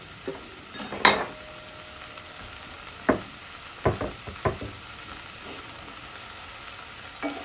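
Green onions sautéing in a pan, a low sizzle broken by a handful of sharp utensil scrapes and taps spaced irregularly, close and moderately quiet, no voices.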